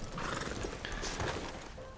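A horse neighs loudly in the video game Red Dead Redemption 2, its whinny heard over hoof clatter and a dense wash of game noise.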